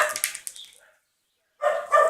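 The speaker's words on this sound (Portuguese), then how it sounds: "é um cachorro de rua. E ele tá latindo porque o outro cachorro tá latindo." A street dog barks in short yappy bursts heard indoors, a cluster of barks, then silence, then another burst of barking near the end, fairly clear and moderately close.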